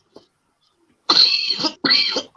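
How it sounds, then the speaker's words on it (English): Someone coughs twice in quick succession, harsh and close, while eating extremely hot Carolina Reaper chillies, after a faint small sound. "Control your cough"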